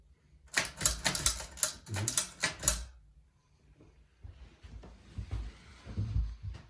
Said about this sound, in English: And this is typing machine.